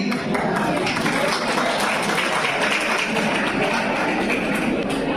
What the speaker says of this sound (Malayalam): എങ്കിൽ നിങ്ങൾ അവരെ കൈയടിച്ച് പ്രോത്സാഹിപ്പിക്കണേ